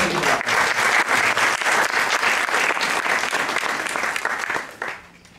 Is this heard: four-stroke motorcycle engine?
no